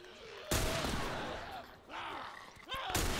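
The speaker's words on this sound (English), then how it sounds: "Again, I'm just using that hunting rifle." Hunting rifle fired in The Last of Us Remastered at the lake resort mill: three sharp, loud shots spaced about a second apart, each leaving a short echoing tail, with a faint creature growl between them.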